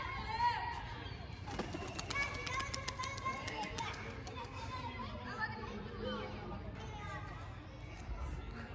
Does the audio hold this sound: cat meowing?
no